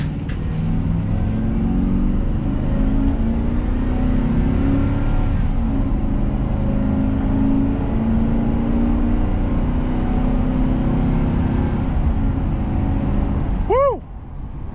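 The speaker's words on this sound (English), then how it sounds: "Let me do a quick 0 to 60." A 2004 Chevrolet Express 2500 cargo van with a 6.0 engine pulls hard from a stop toward 60, a loud, steady drone heard from inside the cab that climbs through the gears before easing off near the end.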